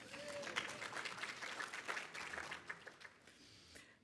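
Faculty audience at a fall convocation applauding, a fairly faint, dense patter of clapping heard from a distance that tapers off toward the end.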